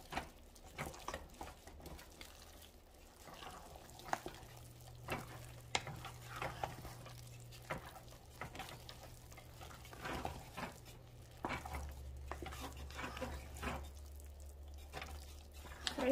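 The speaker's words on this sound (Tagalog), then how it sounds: "Then, haluin natin ito mabuti." Biko rice cake mixture with raisins stirred in a pot on a stove, a faint, steady run of soft sticky scrapes and light ticks in repeated strokes over a low hum, close and without talk.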